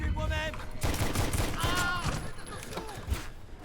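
Bursts of rapid gunfire from the cover-shooting video game Wanted: Weapons of Fate crackle continuously, mixed with whistling, sweeping effects and game sounds in a dense, busy mix.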